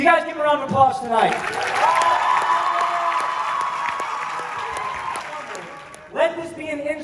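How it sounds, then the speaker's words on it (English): A crowd of campers and counselors at a bootcamp rally concert breaks into sustained applause and cheering, loud and steady for several seconds, with talk before and after. "Counselors, you guys give a round of applause tonight."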